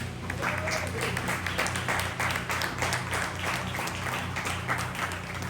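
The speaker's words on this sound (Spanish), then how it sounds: "Póngase de pie y denle un aplauso al Señor." A church congregation standing and applauding during a Spanish-language service, with steady dense clapping filling the room throughout and some voices mixed in.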